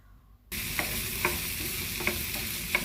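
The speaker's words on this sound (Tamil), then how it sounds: "எண்ணெய் சூடாயிட்டு ஒரு அரை தேக்கரண்டி அதில் கடுகு, ஒரு பெரிய வெங்காயம், சிவப்பு வெங்காயம் வச்சுருந்தா அதையும் போட்டு நல்லா வதக்குறேன்" Mustard seeds and a large red onion frying in hot oil in a home kitchen pan, a steady close sizzle with occasional sharp pops and crackles from the seeds and light stirring, no voices.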